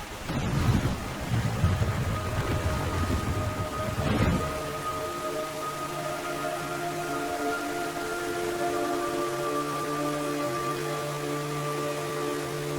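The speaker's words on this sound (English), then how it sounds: "It's raining blood." A thunderstorm with steady heavy rain in the Metal Gear Solid 3 video game, a loud thunder crack near the start, then constant rain hiss under sustained musical tones.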